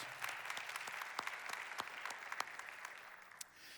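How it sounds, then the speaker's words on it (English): A crowd at a volunteer appreciation event claps for elected officials. The steady, rather faint applause sounds distant, with a few sharper single claps standing out before it thins at the end. "Let's recognize all of our elected officials again one more time with a round of applause."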